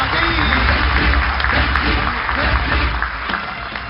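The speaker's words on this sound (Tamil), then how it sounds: "ஒரு அரங்கன் நிறைந்த கைத்தட்டல கொடுத்துடலாம்." An audience claps at a political party's anniversary event as a schoolgirl is welcomed to the stage, a loud, dense crowd applause running throughout with some murmuring voices mixed in.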